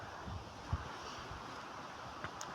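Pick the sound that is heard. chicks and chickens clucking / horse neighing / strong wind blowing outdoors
strong wind blowing outdoors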